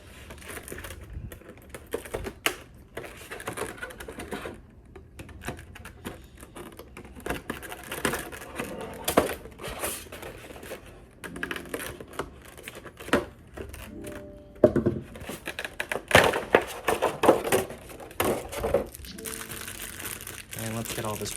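Clear plastic blister packaging is pulled and peeled away from a 1/7 scale Good Smile Company anime figure, making close, irregular crinkling, crackling and snapping sounds as a person talks over it.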